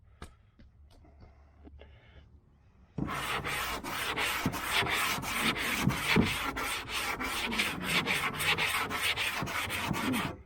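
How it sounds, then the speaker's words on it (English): Sandpaper is rubbed by hand up and down over Camaro IROC-Z bodywork in a quick, steady scratchy rhythm, close and continuous after a few faint taps. "you got to keep taking the sandpaper and hitting it, getting the dust out of it"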